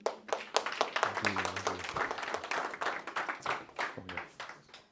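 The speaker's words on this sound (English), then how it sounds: "Let's do one more round of applause for Wilson." An audience gives a round of applause for a speaker at a real estate seminar, lively, uneven clapping close by with a few voices and brief cheering mixed in, swelling and ebbing over several seconds.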